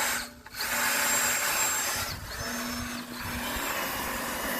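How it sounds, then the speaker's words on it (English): Cordless drill brush scrubbing mold and grime from the gap inside a Samsung washing machine, a steady close motor whine with a brief stop and restart partway through, no talking. "having a drill brush up in here in that little gap"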